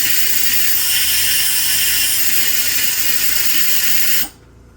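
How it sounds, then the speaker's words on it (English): Washing machine fill valve and float blowing air, a steady loud hiss close by that cuts off abruptly near the end, with no talk over it. "It's actually blowing air through the float thing."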